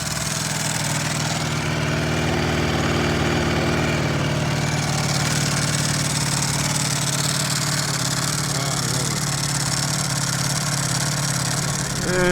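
A Lamborghini V4 motorcycle engine runs steadily and close by, droning at an even pitch with slight swells in revs for the whole stretch, with no voices over it.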